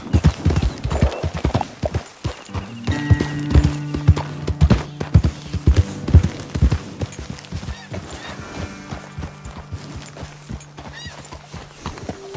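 Horse hooves in the video game Red Dead Redemption 2 clip-clopping at a steady walking pace, close and fairly loud, with a whinny and a low droning tone layered underneath.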